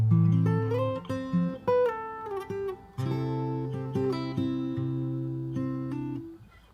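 A single bar of fingerstyle acoustic guitar from a song is picked alone, with plucked bass notes under higher melody notes ringing together at a gentle, steady pace and no voices.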